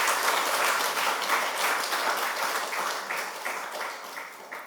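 Church congregation at a Sunday worship service applauding in welcome, a steady, even wash of many hands clapping at moderate volume, gradually softening, with no talk over it.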